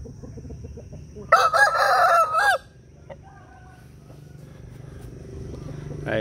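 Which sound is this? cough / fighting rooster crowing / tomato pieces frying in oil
fighting rooster crowing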